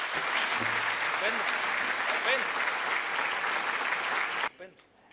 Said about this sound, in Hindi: मेरी पंक्तियां अगर आप लोगों तक पहुंच रही हो तो एक बार मंच के लिए भी शानदार तालियां बजा दीजिए